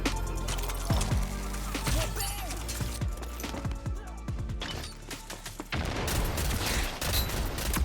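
Gunfire from a pistol in the video game Rogue Company: a rapid string of sharp shots and impacts, loud and close, mixed with game effects and a short pause before the shooting resumes.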